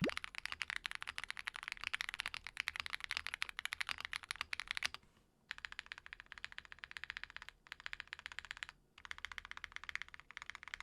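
Typing on an Akko MOD007 PC keyboard with Prelude piano switches, Cherry-profile keycaps and internal foam: dense, fast close-up keystrokes run steadily for about five seconds, then continue in bursts broken by two short pauses.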